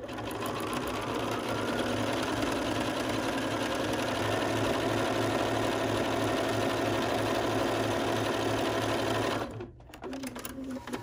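A sewing machine stitches with green and brown thread under tight bobbin tension, a loud, close, fast steady whirring hum that runs without pause for about nine seconds, then stops abruptly, leaving softer handling noise and faint talk.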